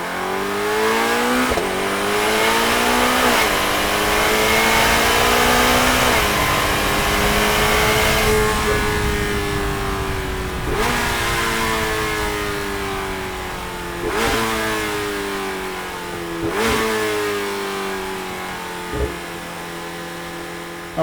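A Chevrolet Corvette ZR1 engine revs hard through repeated climbs in pitch, each broken by a sharp gear change, a loud sustained roar that stays close throughout with no talking.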